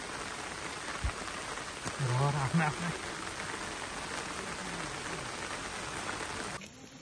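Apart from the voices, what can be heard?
heavy rain in the forest while hiking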